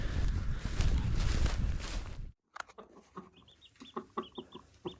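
A hen clucks on a small farm after hatching a chick: first a loud rustling, breezy stretch, then after a short gap a series of soft, close clucks and chirps in an uneven rhythm.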